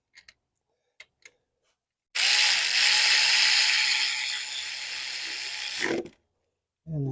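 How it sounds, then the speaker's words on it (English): A ratchet tightens bolts on a 2003-2007 Honda Accord power steering pump: one continuous run of rapid, close clicking lasting about four seconds, preceded by a few faint ticks and followed by a short restart. "I'm just going to tighten these up real quick"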